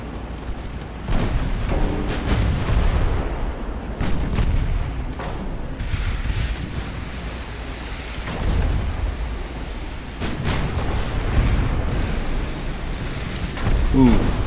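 Naval artillery in the Ultimate Admiral: Dreadnoughts video game, set in 1890, gives a steady wash of deep rumbling booms and distant blasts with no clear gaps.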